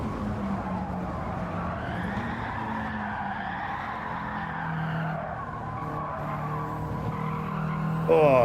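A race car engine revs hard with squealing tires in Gran Turismo 7 during a time trial, a steady close high-pitched whine holding throughout, with a brief jump in loudness at the end.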